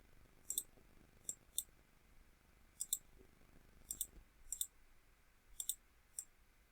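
Computer mouse clicking while working in an image editing program, a dozen or so sharp, quiet clicks, some in quick pairs, spread irregularly over a faint steady hum with no talking.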